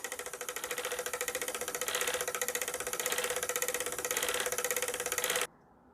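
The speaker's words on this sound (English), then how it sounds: "this should quit making a rattle sound once there's a little bit more yarn on here" A spinning wheel's bobbin rattles in a fast, regular mechanical clatter as yarn winds on, loud and close and continuous for over five seconds before stopping abruptly.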